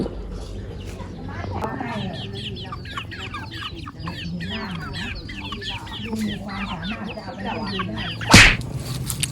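A flock of chickens on a farm in Phrae, Thailand, clucks continuously and busily close by, with a loud burst near the end, while people talk over them.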